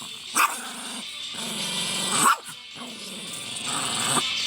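A one-eyed pet dog gives a few short growly barks and yips, close to the microphone, with a steady background rustle between them.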